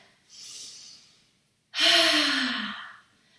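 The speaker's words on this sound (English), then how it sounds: "Nice deep breath in and out." Two slow, deep breaths during a workout cool-down, a soft airy inhale followed by a louder, longer sighing exhale with a slight voiced hum, close to the microphone and heard on their own.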